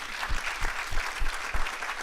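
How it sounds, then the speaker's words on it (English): Brief burst of audience applause for a panel at a media conference, dense steady clapping with some low thumps throughout. "But before that, a round of applause for my great panel."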